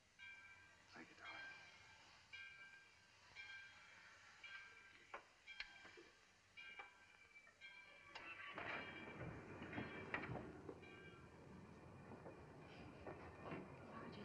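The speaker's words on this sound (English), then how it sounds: "Roger, the train's moving." A train moves off in a 1941 film scene. A low rolling rumble carries rhythmic clicks and clatter, and it grows fuller and louder partway through.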